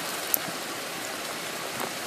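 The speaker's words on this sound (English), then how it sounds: "Finally, on Monday night, it started raining." Steady rain falls on a Monday night in west Columbus, Ohio, a constant soft hiss with faint scattered drops and no voices.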